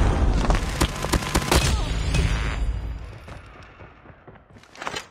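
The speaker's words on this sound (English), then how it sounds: "Sentry gun deployed." Sentry gun firing in a video game, a dense burst of loud gunfire and booming thuds in the first half that thins and fades, with a last sharp shot near the end.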